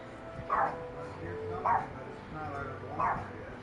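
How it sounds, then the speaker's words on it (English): Three spaced dog barks from the game Final Fantasy XIV ring out over a low background bed, each short and moderately loud, like a game sound effect. "What are you barking at?"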